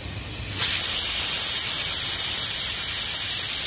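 A pressure cooker with beef curry inside blows its whistle, a loud continuous steam hiss that starts abruptly and holds steady, close by with no talking.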